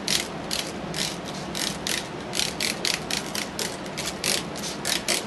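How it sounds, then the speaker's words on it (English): A spray bottle of alcohol and water mix mists scrap-yard pieces on a model railroad layout in a fast run of short, sharp hissing squirts, loud and close with a steady rhythm. "I'm just going to spray them down a bit."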